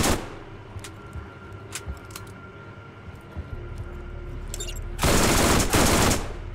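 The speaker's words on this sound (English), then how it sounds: "I'm gonna shoot y'all." Gunfire in Borderlands GOTY Enhanced: a few scattered shots over ambient game noise, then a loud, sustained automatic burst near the end.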